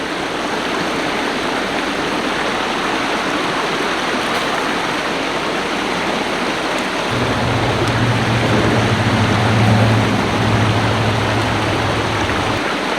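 A creek's water flows in a constant broadband rush close by, with a low hum rising under it in the second half.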